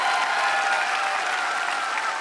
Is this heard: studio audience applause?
yes